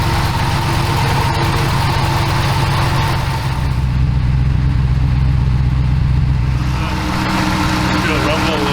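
A V8 engine idling in a Jeep Gladiator, a steady, deep rumbling throb that runs throughout, with people talking over it.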